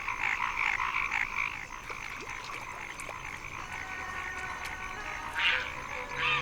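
Male paddy frogs call in a dense, continuous chorus of croaks, with overlapping rhythmic pulses and a few louder, closer calls standing out near the end.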